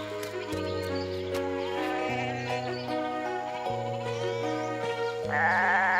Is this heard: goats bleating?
yes